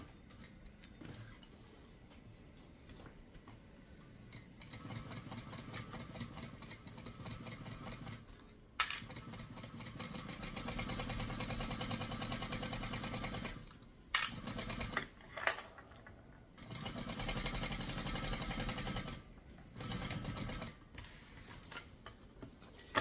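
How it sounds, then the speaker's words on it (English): A sewing machine bastes around the edges of a fabric tote bag with a rapid, ticking mechanical chatter. It runs in long continuous stretches broken by short pauses, close and without talk. "this is just a quick basting around the edges just to make sure that they're secure."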